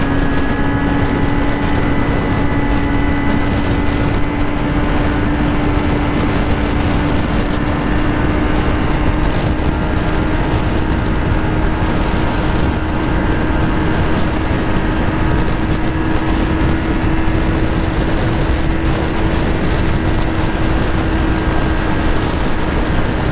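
A Kawasaki Z900 motorcycle accelerates in second gear with a loud, continuous engine drone whose pitch climbs slowly and steadily, heavily mixed with wind roar throughout.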